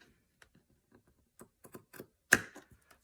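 Fabric scissors trim fabric in a quiet room, producing a series of soft, scattered snips and clicks, with one sharper, louder cut near the end.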